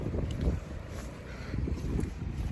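Wind blowing outdoors on a muddy outing, a steady rumbling gust buffeting close against the microphone throughout, with no voices.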